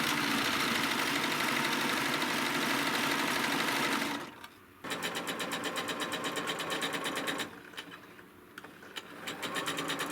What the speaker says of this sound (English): I can serge the whole thing together